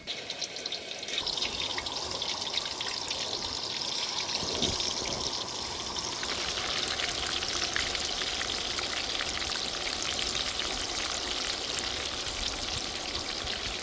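Steady, loud sizzling and crackling of spiced chicken frying in hot oil, continuous throughout with a brief clatter early on, no voices.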